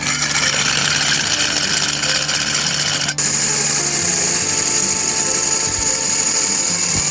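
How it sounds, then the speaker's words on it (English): A power drill fitted with a spider bit bores upward through a wall during a mini split install, a loud steady whine with a brief dip midway, continuous throughout. "So remember, we're drilling in a slightly upward fashion there."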